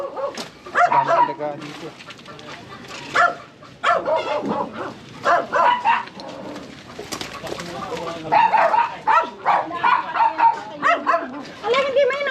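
Dogs bark and yip in repeated bursts near a rural yard, mixed with people talking throughout.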